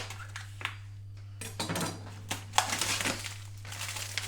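Meatballs dropped into a warm frying pan on a low hob, a string of soft clattering knocks and rustles at close range over a steady background hum, with no talk.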